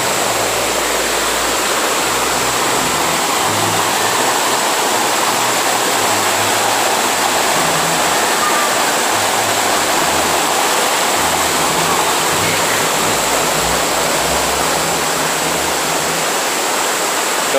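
Waterfall and river rapids at Cachoeira dos Prettos in Joanópolis roar as a steady, dense wash of rushing water, loud and continuous throughout with no voices.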